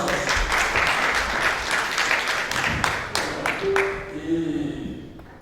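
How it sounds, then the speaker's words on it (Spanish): Audience applause at a panel session, a sustained crowd clapping that carries steadily and then thins and fades, with a voice speaking over the tail end. "aplausos"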